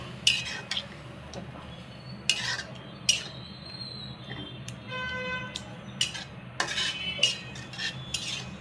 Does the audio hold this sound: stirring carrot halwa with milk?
yes